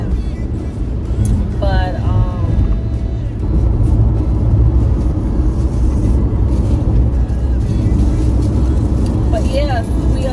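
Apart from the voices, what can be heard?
car driving on the road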